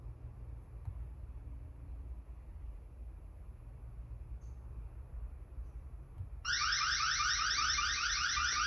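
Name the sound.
security camera alarm sounding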